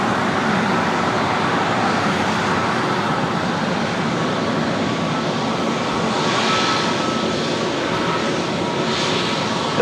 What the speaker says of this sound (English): Another A321 Neo with Delta